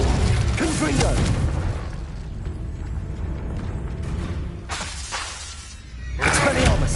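Incendio and Confringo spell blasts in the Hogwarts video game, loud crackling bursts with shattering, mechanical-sounding detail, one at the start and another near the end, and a steadier rumble between them.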